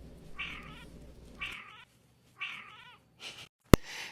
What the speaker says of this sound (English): My cat being overly dramatic.